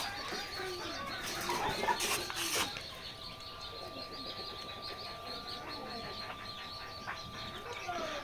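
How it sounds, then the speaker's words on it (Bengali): Layer hens in a poultry farm shed cluck and cackle in a dense, ongoing chorus at moderate distance, with a brief burst of wing flapping and louder squawks early on and a faint steady mechanical hum underneath. "এগুলো হচ্ছে লেয়ার মুরগি দেখতে পাচ্ছেন এখানে লেয়ার মুরগি রয়েছে"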